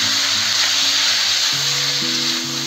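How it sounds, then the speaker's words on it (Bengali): Broccoli frying in hot oil after potatoes makes a loud, steady sizzle and crackle that keeps going without a break, with no voices over it. "ব্রোকলিটা ভেজে নেবো ভালো করে।"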